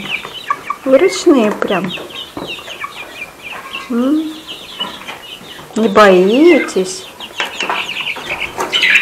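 Chickens at a feeder cluck and squawk close by in repeated bursts with rising and falling calls, while people talk over them.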